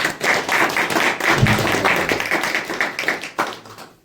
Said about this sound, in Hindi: चलिए एक अच्छा ताली बजाए प्रभु के लिए।